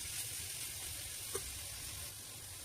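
Grated fresh coconut is stirred into tender jackfruit sabji frying in a pan, heard as a soft, low, continuous sizzle with one brief scrape of the spoon midway.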